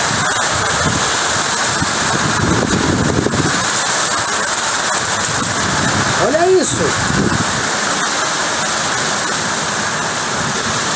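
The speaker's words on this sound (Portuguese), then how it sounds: "Pessoal, chovendo pedra, ó." Heavy rain mixed with hailstones pours down in Australia as a dense, continuous roaring hiss, with people talking briefly over the storm.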